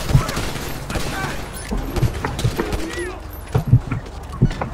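Shotgun blasts in Grand Theft Auto V Online, several sharp, fairly close booms scattered through the stretch, mixed with game noise and excited talk from players.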